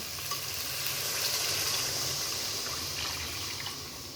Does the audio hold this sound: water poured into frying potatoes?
yes